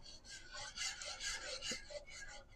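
A utensil scrapes browned pork bits from a pan as vermouth is stirred in, making soft, rhythmic rasping strokes, close and fairly quiet, with no talk.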